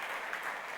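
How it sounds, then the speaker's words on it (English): An audience applauds at a talk in a brief, muffled wash of continuous clapping under a second long. "I'm sure Simon will appreciate your applause when he hears this."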